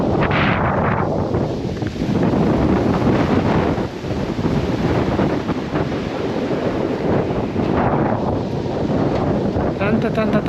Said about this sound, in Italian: guardate il vento che tira, fa creare addirittura un po' di onde anche sotto questo bacino